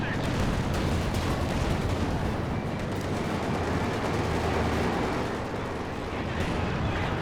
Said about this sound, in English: that's some 240mm artillery. Does a whole gang of damage to those tanks